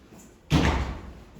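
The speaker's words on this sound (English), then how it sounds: "Please close the door." A door in a classroom slams shut once, a loud close thud with a brief rattling tail, alone after quiet room tone.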